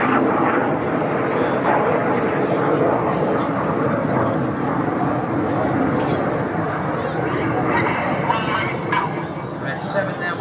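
Red Arrows display jets roar overhead at the East Fortune Airshow, a loud sustained rushing engine noise that fills the clip, with a commentator's voice faintly running beneath.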